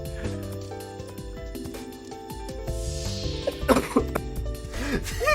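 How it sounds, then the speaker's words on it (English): Several sharp coughs and throat clears burst out near the end of a passage of steady background music, loud and close, with no speech over them. "I just hear you coughing"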